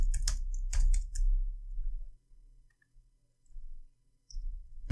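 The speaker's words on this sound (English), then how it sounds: "Type something in our username, in our password." Brief bursts of clicky computer-keyboard typing, close and crisp, in short clusters separated by quiet pauses and low background hum.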